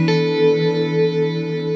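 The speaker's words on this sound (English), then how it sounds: "It's like an undulating reverb ghost that follows." Electric guitar sustaining a chord through a pedal's undulating reverb effect, a ghostly wash that swells and wavers steadily after a single pluck, loud and alone.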